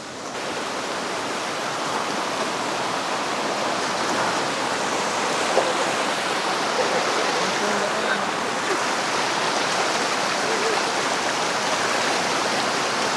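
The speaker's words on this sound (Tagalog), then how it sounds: "Unang tawid natin ng ilog." River flowing at a crossing during a hike on Mt. Airy, a loud, steady rush of water close by that runs without a break, with voices faintly under it.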